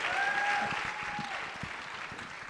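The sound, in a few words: audience applause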